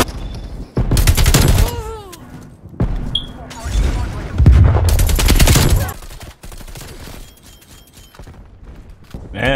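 Rapid bursts of close, loud automatic gunfire in a shooter video game, broken by short pauses, with further volleys and impacts following.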